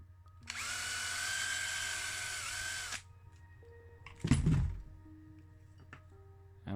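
A small drill whines steadily for a couple of seconds as it bores the head off a plastic rivet on a 1969 Matchbox No 18 Field Car toy, then a short clattering thunk follows as the piece comes free.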